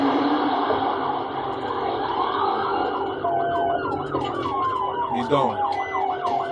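A police car's wailing, yelping siren cycles rapidly over steady road noise during a chase of a motorcyclist in Arkansas, with a brief spoken remark partway through.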